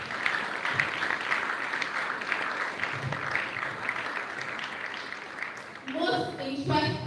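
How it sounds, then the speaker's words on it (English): Audience clapping continues steadily as a dense, fairly loud wash of applause, with a brief voice or cheer rising near the end. "Please a round of applause."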